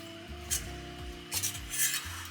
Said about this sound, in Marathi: बघा आता कसं तूप सुटलं आपला रवा भाजत आलेला